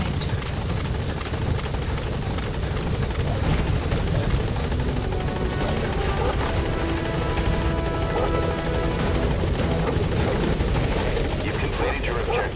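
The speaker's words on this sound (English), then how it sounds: "Support helicopter has arrived." Support helicopter arriving over a landing zone in Metal Gear Solid V: The Phantom Pain, a steady loud rotor thrum and engine roar holding throughout, with voices talking over it.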